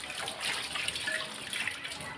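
Tap water runs steadily in a kitchen sink while fresh coriander leaves are rinsed, a soft continuous splashing stream with faint splatters, fairly quiet and with no voices.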